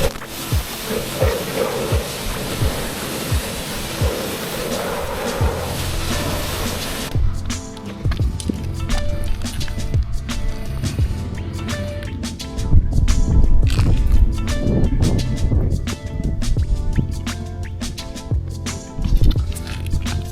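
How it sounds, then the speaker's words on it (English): Water spraying against the undercarriage of a Ford XG Falcon, a loud continuous hiss and splatter up close that shifts in tone partway through as the spray moves, with no voices. "I might just wash that, so we'll just give it a quick wash now."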